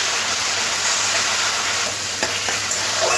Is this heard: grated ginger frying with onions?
yes